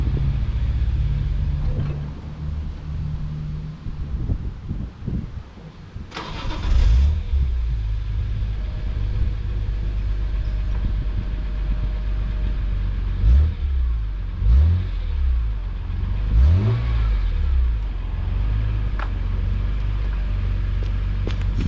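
BMW E46 M3 engine revving as it warms up, a loud close rumble at first, then repeated sharp revs that rise and fall in bursts over a steady idle, with no talking.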